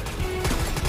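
Rapid bursts of gunfire crackle in a shooting game, a dense, brief fusillade with no talk.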